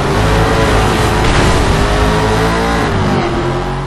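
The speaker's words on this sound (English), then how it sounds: "The intricate engine sounds are near deafening, ensuring that you'll have to turn your speakers way down if you play at night." Race car engine roars loud and continuous in Shift 2 Unleashed, a dense rising-and-falling howl of revs filling the whole stretch with no voices.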